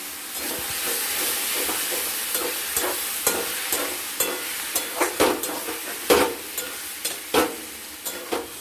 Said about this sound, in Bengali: এবার চালের গুঁড়োটা যে জলের মধ্যে গুঁড়িয়ে রেখেছিলাম এবার এটা দিয়ে ভালো মতো করে নাড়াচাড়া করব